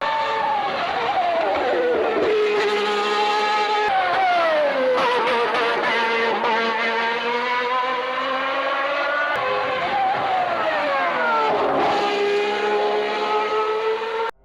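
Formula One race car engines screaming at high pitch, rising and falling through gear changes as cars pass, loud and continuous throughout with no talk.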